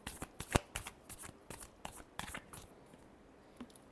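Tarot cards are shuffled by hand in a series of soft, close riffling flicks and taps, fairly quiet and fading out toward the end.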